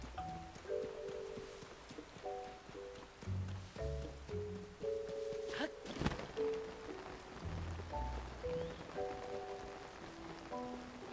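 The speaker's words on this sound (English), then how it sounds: "Okay, it's rain." Rain falling in The Legend of Zelda: Tears of the Kingdom, a steady soft patter running the whole way through beneath layered game music and occasional effects, with no speech.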